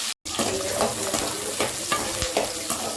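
Small shallots and garlic fry in a pan, crackling in a dense steady sizzle with repeated spoon scrapes and stirring knocks, heard up close after a brief gap of silence at the start.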